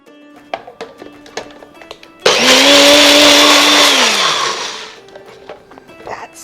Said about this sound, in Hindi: दूध को थोड़ा सा मिक्सर ग्राइंडर जार में ही डाल के एक बार फिर इसे ग्राइंड